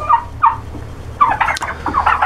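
Several turkeys gobble inside a barn in short, warbling bursts, a couple of separate calls and then a busier cluster, over a low steady hum.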